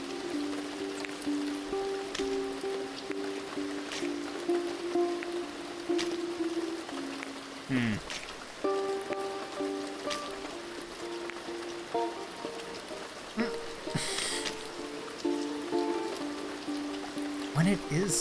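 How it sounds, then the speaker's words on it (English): Steady rain falling and pattering on platforms in a video game, a continuous soft hiss under calm game music and occasional speech. "Oh, the rain bounces off the platforms now."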